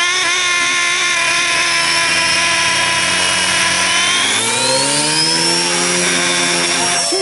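A Blade mCP X RC helicopter rotor spins up, its loud, close whine holding steady and then climbing sharply in pitch as it accelerates.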